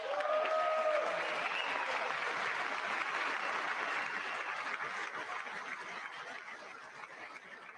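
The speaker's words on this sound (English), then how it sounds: "I wasn't sure if anybody even on this side was going to applaud for that" Sustained applause fills a large chamber during a State of the Union address before Congress, a dense steady clapping from many hands that fades slightly toward the end, with a few scattered laughs mixed in.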